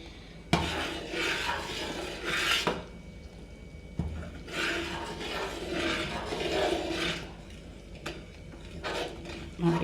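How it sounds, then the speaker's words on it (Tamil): A spoon scraping and stirring thick, sweet cake batter in a metal pan, with repeated close rasping strokes and occasional knocks against the pan. "கை விடாமல் கிண்டிக்கிட்டே இருக்கணும்."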